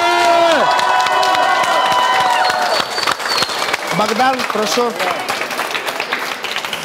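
A crowd at a slap-fighting tournament breaks into loud applause and cheering, clapping and shouts layered thickly while a host's voice rises over the noise near the end.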